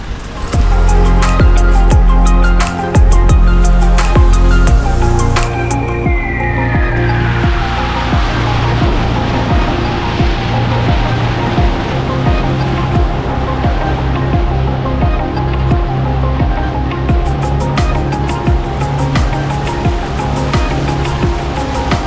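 Vehicle fording the Pascoe River crossing in Iron Range National Park, a loud rush of water splashing and surging over a steady engine drone, continuous and close for the whole passage.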